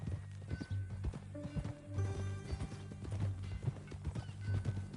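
Quick hooves clip-clop in a steady rhythm beneath a low, sustained musical score, with a horse whinnying partway through, from the video game Red Dead Redemption 2.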